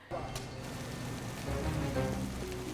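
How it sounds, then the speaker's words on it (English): Heavy rain in a film scene pours down steadily as a dense, continuous hiss of drops on surfaces, with faint low murmurs and tonal sounds underneath. "It was proper film rain."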